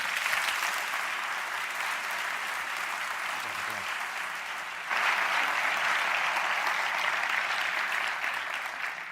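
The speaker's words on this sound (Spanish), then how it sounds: "Un fuerte aplauso para Manuel Collado." A theatre audience at a science talk event applauds a speaker taking the stage, with a continuous wash of clapping that swells partway through and keeps going.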